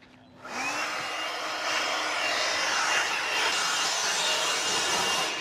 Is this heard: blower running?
yes